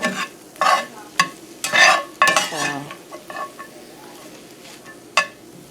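Eggs with a splash of milk cook in a pan for Spam migas, heard as a soft sizzle under bursts of spatula scraping and stirring against the pan, loud at first and thinning out toward the end.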